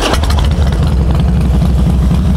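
A Harley Davidson Fat Boy FLSTF motorcycle in black pearl paint with red dual pinstriping idles up close, its engine thumping in a steady, loud, lumpy rhythm with no talk over it.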